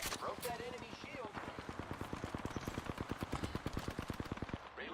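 Rapid automatic gunfire in a video game rattles off in a steady, loud burst of evenly spaced shots lasting several seconds, with a voice talking over the start.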